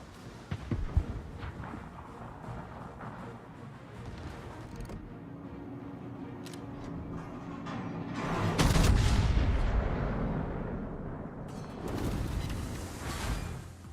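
Naval artillery in World of Warships fires in heavy booming salvos, with several deep blasts and rumbling impacts spread across the clip and a big swell of explosions midway.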